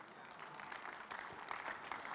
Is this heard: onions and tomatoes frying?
no